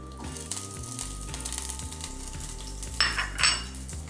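Chopped shallots sizzle in hot oil in a pan as tempering for a Kerala-style roasted-coconut egg curry, a close, continuous frying hiss with a brief louder flare of spattering near the end, over quiet background music.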